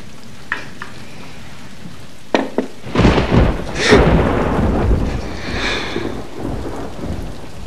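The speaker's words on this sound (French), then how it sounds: "l'orage a fait de gros dégâts" Thunderstorm with heavy rain, a few sharp cracks giving way to a loud rolling thunder burst over a continuous hiss of rainfall.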